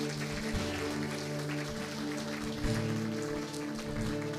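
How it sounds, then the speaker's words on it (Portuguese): A church congregation claps together in a sustained round of applause, a dense steady patter with a low hum of music or voices beneath, moderately close. "Você pode aplaudir o Senhor bem forte."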